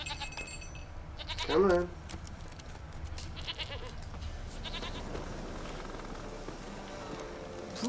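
A goat bleats once, short and wavering, in The Witcher 3 video game, heard against a constant ambient bed of outdoor game sound, with a brief spoken line from a man.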